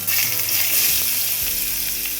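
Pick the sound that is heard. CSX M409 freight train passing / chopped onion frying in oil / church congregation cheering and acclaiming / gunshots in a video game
chopped onion frying in oil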